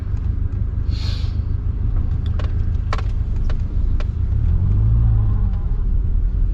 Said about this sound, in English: We're gonna take it for a quick test drive, make sure that I have not noticed any more of a loss of power.